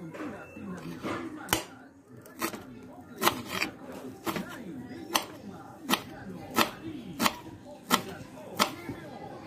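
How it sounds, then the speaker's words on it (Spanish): Culantro chopped with a knife for a Peruvian jungle shurumbo gives a run of about a dozen sharp, close knife strikes on a board at an uneven, fairly quick rhythm, with a voice murmuring faintly underneath. "Vamos a picar el culantro."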